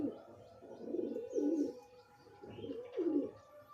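Domestic pigeons coo nearby in soft, throaty, repeated phrases, several rolling calls in a row with faint chirps in the background.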